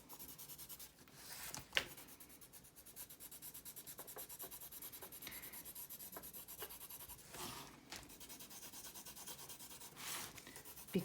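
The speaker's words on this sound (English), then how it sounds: "apply graphite like this with the side of your pencil, not on the whole shape, just on the lines that outline the" Graphite from the side of a pencil rubs across paper in quiet, close, continuous scratchy strokes with brief pauses between passes.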